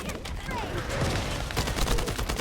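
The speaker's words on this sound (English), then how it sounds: "That stopped the gunfire" Rapid gunfire in the video game The First Descendant crackles as a dense, continuous fusillade of close shots.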